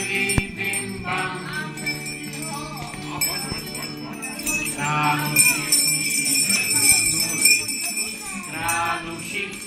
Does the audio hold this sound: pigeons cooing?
no